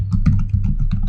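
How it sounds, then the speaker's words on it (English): A computer keyboard is typed on in a quick, close burst of crisp key clicks as a command is entered at a terminal prompt, heard alone without speech. "type in git --version to check"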